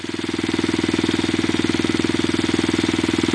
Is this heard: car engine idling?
yes